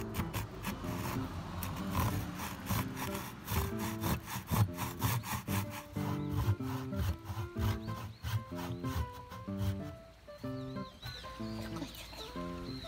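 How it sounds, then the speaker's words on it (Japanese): A hand saw cuts through wood in quick, rhythmic back-and-forth strokes, close and fairly loud, slowing and thinning out toward the end. "手ノコギリは引くのが大事と教わります。"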